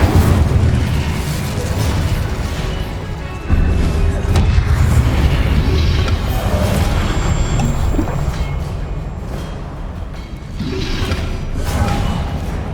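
An Incendio fire spell cast in Hogwarts Legacy bursts with a heavy booming whoosh, followed by a sustained loud rumbling roar that surges again midway, dense and close.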